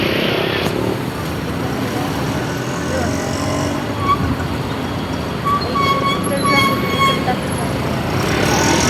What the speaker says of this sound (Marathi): भिवंडी ट्रॅफिक लय असते काही